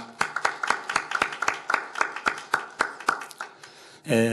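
Hands clapping in a Korean church Wednesday worship service, offered as thanks and glory to God: about fifteen evenly spaced, sharp claps in a slow steady rhythm, then a brief burst of other sound at the end.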